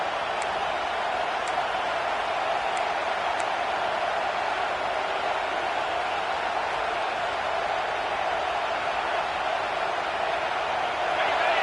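A football stadium crowd roars in a dense, steady wash of noise that holds loud and unbroken from start to finish, with no single voice standing out.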